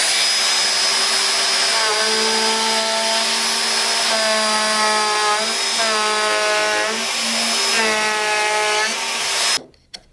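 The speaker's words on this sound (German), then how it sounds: "An diesem breiten Stück werden wir jetzt eine Kante abrunden mit der Kantenfräse von Bosch." A Bosch edge router rounds over the edge of a wide wooden board, its loud, steady high-pitched whine holding throughout with slight shifts in pitch as it cuts, then cutting off abruptly at the end.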